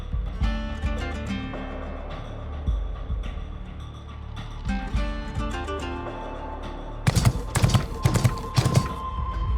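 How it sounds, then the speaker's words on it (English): In the video game Nikke: Goddess of Victory, horse hooves clip-clop in a steady rhythmic patter over a low throbbing hum and game music, with a louder burst of sharp hits near the end. "Sounds like horse hooves."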